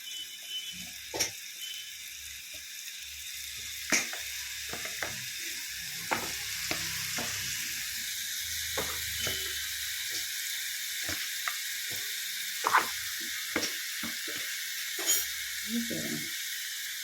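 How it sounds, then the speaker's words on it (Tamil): Marinated chicken frying in butter in a kadai for shawarma gives a continuous, even sizzle, punctuated by repeated metallic scrapes and clinks of a spoon stirring against the pan. "இப்போ இந்த மேக்னேட் பண்ண சிக்கன் இருக்குல்ல, அதை ஃபுல்லாக வறுத்து எடுத்துக்கலாம்."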